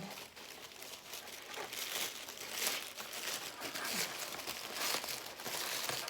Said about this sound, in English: I'm just carefully, without ripping the tissue paper, just separating